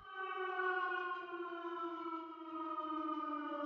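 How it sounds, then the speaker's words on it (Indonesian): Civil defense siren in Yogyakarta signalling the curfew change, a steady sustained wail carrying across the city, loud and unbroken with a slight slow pitch drift. "sirine pergantian jam malam dibunyikan seluruh penjuru kota"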